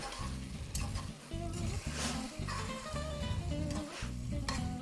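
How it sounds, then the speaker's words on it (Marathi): A spoon scrapes and stirs through thick carrot halwa in a pan in repeated strokes, with a soft sizzle underneath and no talking. "मधूनमधून हलव्याला हलवत राहायचे आहे नाहीतर ते खाली चिटकण्याची शक्यता आहे"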